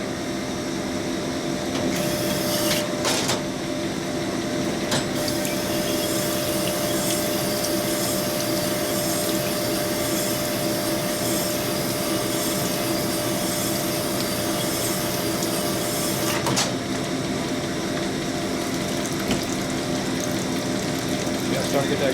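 Stone hone working inside a Harley Evolution cylinder during piston fitting, a steady whirring drill drone with wet rubbing and scraping, continuous and fairly quiet, with a couple of brief louder bursts.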